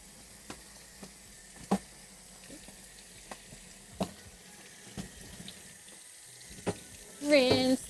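Tap water runs steadily into a sink while a turkey is rinsed, a broad close wash with occasional splashy knocks and a louder gush at the end, no clear speech over it.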